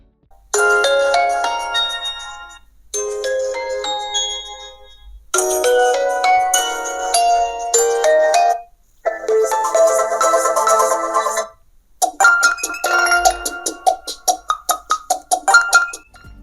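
Ringtone melody played loud through the stereo speakers of an OPPO Reno12 F smartphone, several bright chiming phrases in a row, the last one a quick run of repeated plucked notes, with no talking.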